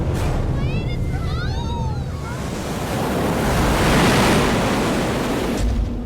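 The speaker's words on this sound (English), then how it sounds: "One of these big waves breaks directly over the middle of the boat." Loud rushing wind and surging water roar around a boat, swelling into a heavy crashing wave near the end; a few brief shrill cries sound early on.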